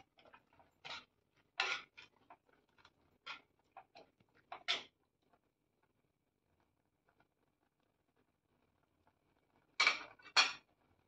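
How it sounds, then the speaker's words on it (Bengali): A masher squashes strawberries in a pot for jam, giving scattered sharp close taps and squelchy clicks in short bursts, then a pause and two more knocks at the end. "এবার আমি ম্যাশার দিয়ে একটু ম্যাশ করে দিচ্ছি।"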